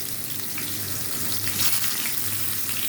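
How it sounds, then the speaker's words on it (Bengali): Pointed gourd (potol) frying in hot oil, a steady, close, fairly loud hiss and sizzle that runs without break and without talk. "তেল গরম হয়ে গেছে। এখন হচ্ছে পটলগুলা দিয়ে দেবো।"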